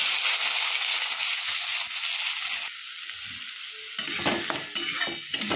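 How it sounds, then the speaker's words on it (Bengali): Chopped onion, slit green chilli, tomato and crushed ginger-garlic frying for broccoli masala, a close hissing sizzle that drops quieter midway, then returns with brisk stirring scrapes and crackles; no talking. "তো এটা ভালো করে ভেজে নিতে হবে। পেঁয়াজ টমেটো যাতে নরম হয়ে যায়।"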